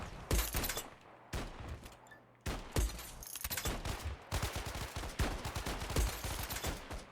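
Rapid bursts of gunfire from a weapon in the pre-alpha parkour and mech video game ShatterRush, loud volleys with short pauses between clusters of shots, no talking.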